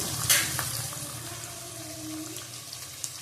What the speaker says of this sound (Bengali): গোটা কাঁচা লঙ্কা দিয়ে দিলাম কষাতে কষাতেই সব গলে যাবে